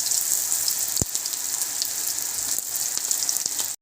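Rava vada, a semolina fritter, fries in hot oil over a lowered flame with a dense, steady sizzle and crackle close up, broken by one sharp tap near the start and faint clicks later.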